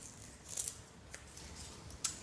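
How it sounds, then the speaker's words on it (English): Scissors snip through a tag on a handmade teddy bear dog costume, two or three short, crisp cuts spaced apart over a quiet room background. "Cut off the tag."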